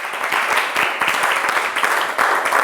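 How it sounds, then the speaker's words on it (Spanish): The congregation at a Bible institute class applauds, a lively, moderately loud stretch of many hands clapping with a few distinct sharp claps standing out. "Un aplauso para Cristo."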